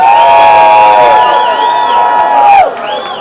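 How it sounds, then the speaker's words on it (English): A crowd at a Papa Hemingway lookalike contest in Sloppy Joe's bar, Key West, during Hemingway Days, cheering and whooping loudly in a steady, sustained roar that dips briefly near the end. "let's give them a big round of applause"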